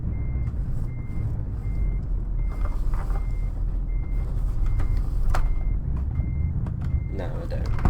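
Reverse warning beeps from a truck hauling a stock trailer in a truck-driving simulator game, a steady evenly spaced beeping over a continuous low engine rumble, with someone talking over it.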